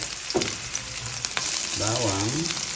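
Chopped onion sizzles in leftover oil used earlier to fry potatoes, a loud, steady frying hiss with a brief stir, close up, ahead of garlic and marinated pork for a pineapple pork dish.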